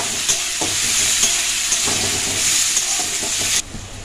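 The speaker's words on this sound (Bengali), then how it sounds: "পেঁয়াজটা একটু ভেজে নেব।" Three medium onions and two torn green chillies fry in a pan with a constant, loud hiss, punctuated by occasional clicks of stirring, before the sizzle drops noticeably near the end.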